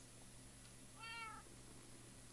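A cat meows once in the Minecraft video game, a short mid-pitched call standing out alone over a steady, quiet background hum.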